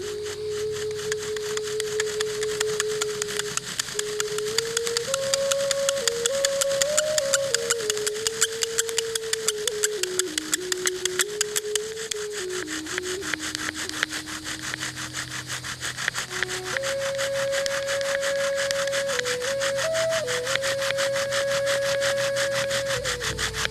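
A bow drill grinds back and forth, burning into a wooden fireboard, in a fast rhythmic rasping, close up, with a squeaky tone rising and falling throughout.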